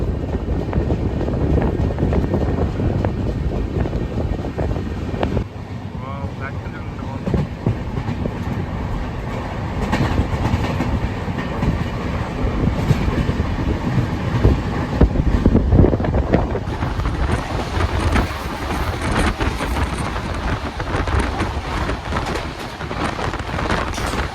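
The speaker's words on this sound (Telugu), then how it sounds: "మన ట్రైన్ దొడ్బల్లాపూర్ క్రాస్ అయిపోతుందండి." Steady rumble and rattle of the Prasanthi Express in motion, heard from inside a second AC coach, with continuous low track roar and faint clickety-clack running throughout, close and fairly loud.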